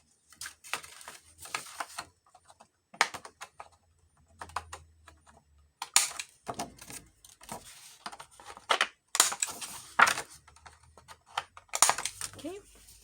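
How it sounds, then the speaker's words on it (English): Scissors snip the corners off heavy 110 weight paper for a small junk journal, a series of short, crisp cuts in irregular bursts with brief pauses between, close and fairly quiet. "I'm gonna cut the corners real quick"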